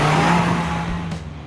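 A Fiat Avventura Abarth under hard acceleration with its front wheels spinning, the engine roaring loud and close with a steady strained tone that eases slightly toward the end, and no talking.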